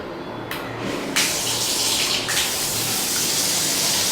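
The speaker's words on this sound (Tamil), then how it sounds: "கீழே ஓப்பன் பண்ணால் இந்த மாதிரி வாட்டர் வரும், நல்லா ஃபோர்ஸாகவே வரும்." A bathroom mixer tap in a Chennai home remodel runs water with force, a loud steady rushing gush that swells slightly a second in and keeps flowing without pause.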